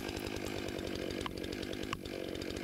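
A chainsaw cuts into a tree in poor condition: a loud, close, steady engine drone with a pulsing rhythm, twice briefly dipping as the cut bites, with no talking.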